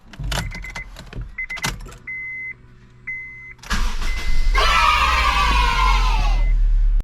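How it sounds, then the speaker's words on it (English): A car engine cranks and catches after an oil change, preceded by dashboard beeps and clicks, then settles into a loud, steady idle up close. "Starting the car again."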